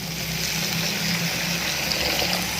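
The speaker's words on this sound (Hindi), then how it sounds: "एक कप पानी ऐड करें" Cup of water pouring into simmering mutton keema with kidney, a dense continuous gushing splash close up, steady throughout with no voices.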